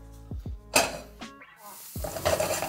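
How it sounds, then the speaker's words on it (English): Shrimp sizzles in a hot pan while utensils scrape and clink against it, with a few sharp knocks between bursts of frying. "Shrimp is toasting up nicely, frying up nicely."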